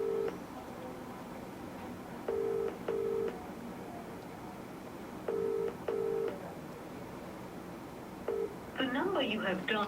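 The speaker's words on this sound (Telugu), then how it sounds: "సేమ్ అప్ప నుండి కూడా ఫోన్ చేసే ప్రయత్నం చేస్తున్నాం, ఆయన లిఫ్ట్ చేస్తలే" A phone keypad sounds short, evenly pitched dialing beeps in small clusters spread over several seconds, followed by a brief busier electronic tone at the end, with quiet background noise.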